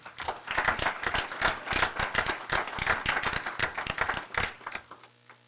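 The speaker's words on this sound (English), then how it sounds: "Can I please get a round of applause and congratulations for her?" Applause at a city common council meeting, a room of people clapping steadily and fairly close for several seconds, with dense overlapping claps and no speech over it.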